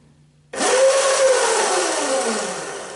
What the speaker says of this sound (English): now that sound that you guys hear is the motor absolutely going full speed